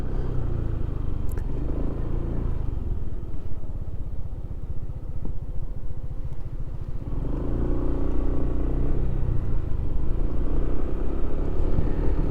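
A small motor engine hums steadily while riding, with low rumble and road clatter throughout, growing a bit louder toward the end.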